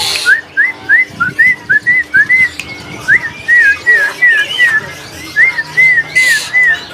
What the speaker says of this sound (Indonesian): Jalak suren gacoran loh.